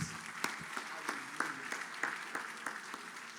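Church congregation applauding during a Wednesday morning service, with scattered, uneven hand claps at moderate volume and no talking over them.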